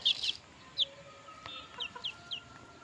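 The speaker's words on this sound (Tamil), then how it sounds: "எதாச்சியாக வாங்கினது கைஸ் கோழி" A newly bought chicken gives several short, high clucks and chirps, spaced irregularly. The calls are fairly faint and close, over a quiet background.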